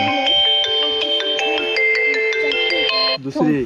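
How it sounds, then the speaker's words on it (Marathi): A mobile phone plays a loud melodic ringtone for an incoming call in a Konkan home in Ratnagiri, a bright repeating tune close by that lasts about three seconds before a voice briefly speaks. "केवढा बाबांचा फोन आला"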